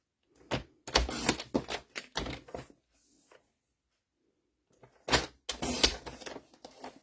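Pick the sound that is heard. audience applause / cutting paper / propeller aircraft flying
cutting paper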